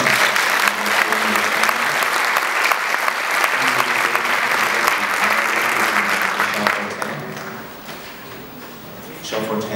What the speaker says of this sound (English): applause to the Cedarview Union Band